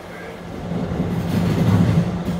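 An R211 subway shuttle train runs between Rockaway Park and Rockaway Boulevard, giving a steady low rumble that slowly builds in loudness over a couple of seconds, with faint rail rattle and no talk.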